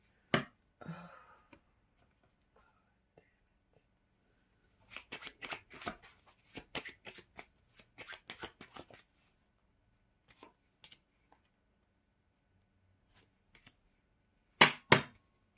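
Tarot idiom card decks are riffled and shuffled in short bursts, a quick flurry at the start, a longer clattering run in the middle and a sharp burst at the end, close and crisp with quiet gaps between.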